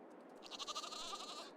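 Sheep in the farming video game Farming Simulator give a single drawn-out, wavering bleat that is fairly faint and sounds fairly close, preceded by a brief softer call, with no talking.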